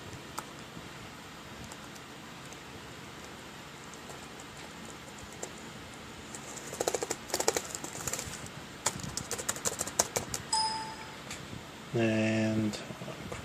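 Keys typed on a Toshiba L655 laptop keyboard during a rebuild, quiet at first and then bursts of rapid clicking clatter, close by, ending with a short electronic tone.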